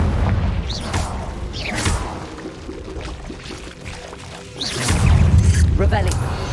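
Confringo fire spell blasting in the video game Hogwarts Legacy: booming, whooshing bursts with crackling swishes rise and fall, a heavier rumbling blast near the end, with a voice speaking over part of it.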